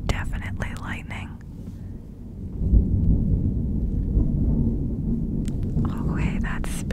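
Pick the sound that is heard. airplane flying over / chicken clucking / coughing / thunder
thunder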